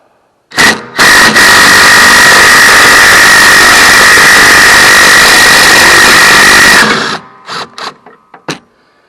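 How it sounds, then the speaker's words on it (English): An Earthquake 3/8 impact wrench loosening a bolt on a Troy-Bilt Bronco lawn mower, a few short loud bursts, then one sustained hammering rattle of about six seconds, followed by brief clicks and taps. "going to be using my Earthquake 3/8 impact"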